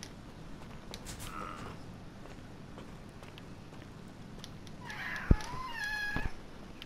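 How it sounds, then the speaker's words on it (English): A house cat meows a couple of times, fairly close, over a steady low background of game audio. "Sorry about that, it's just my cat."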